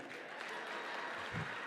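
Faint, distant audience applause at a Merck Foundation Africa Asia Luminary conference, a thin steady patter of clapping with no voices over it.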